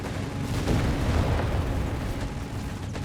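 Heavy howitzer artillery rumbles continuously through a Company of Heroes 3 battle, booming loud and dense with overlapping low blasts over the whole stretch.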